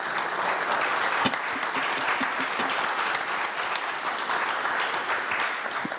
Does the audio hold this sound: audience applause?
yes